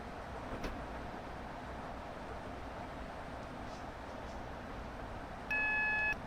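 A steady electronic warning tone sounds inside the driver's cab of a Class 465 train, a single clear beep near the end over the constant low rumble and hum of the moving train.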